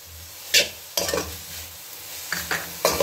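Salt and sugar being stirred into a pan for chicken egg fried rice, a few separate spoon scrapes against the pan over a low background sizzle, with no voices.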